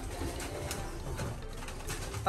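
Pigeons coo softly nearby in a low, continuous burbling murmur, with a brief sharp knock at the very end.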